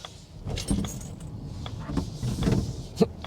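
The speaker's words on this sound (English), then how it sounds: "You can hear the chlorine vats rolling around in the back." Loose chlorine containers knock and rattle in the cargo area of a moving Volvo EX30 electric car, a few irregular thuds and clatters over steady low road rumble inside the cabin.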